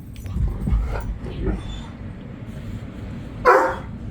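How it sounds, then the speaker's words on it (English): During a pouring rainstorm in Fairbanks, Alaska, a dog barks at thunder, giving a few low woofs and a sharper bark near the end, mixed with a person talking. "barking at the thunder again."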